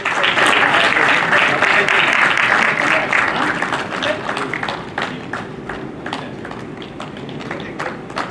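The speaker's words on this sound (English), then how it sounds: "A bigger round of applause" Audience applause at a quiz event, the NTPC Electron Quiz regional round at Patna, as a team from IIT Patna is called up: a dense, loud burst of clapping that gradually thins into scattered, sharper individual claps.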